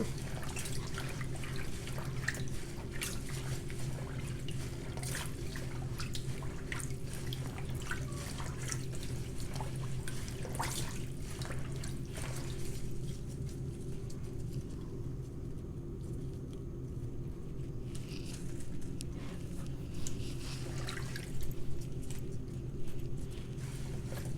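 Climbing rose petals being washed in water give a steady rush of running water with scattered drips and splashes that carry on throughout, set against a low background rumble.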